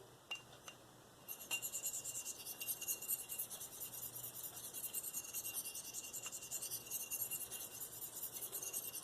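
A Spyderco Endura knife with a V-Toku2/SUS410 blade is drawn across a sharpening stone with light pressure, making quiet, repeated rasping strokes in a steady back-and-forth rhythm after a few soft taps, close by and alone.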